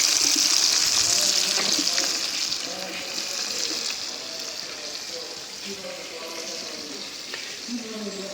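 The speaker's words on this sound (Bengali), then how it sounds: "এখন মাছ ভাজার জন্য বসাই দিই" Boal fish seasoned with salt, turmeric and chili sizzles in hot oil in a kadai, a bright continuous hiss that eases after a couple of seconds, with light stirring and a little background voice.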